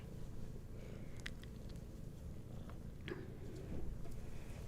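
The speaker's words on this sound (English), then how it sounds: "Cat's a purring away there." A cat purrs steadily and softly nearby, a continuous low rumble with faint scattered clicks and rustles.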